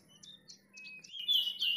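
A kacer, or magpie robin, gives a string of short bright chirps and then a longer rising whistled call. The calls are fairly faint and come alone over a low steady hum, with no talking.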